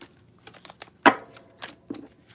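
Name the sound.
shuffling a deck of tarot cards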